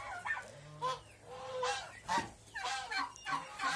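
Repeated gobbling and honking calls from a group of turkeys, fairly close, in short bursts over a low background hum.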